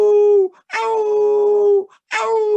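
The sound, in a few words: storyteller imitating a coyote howling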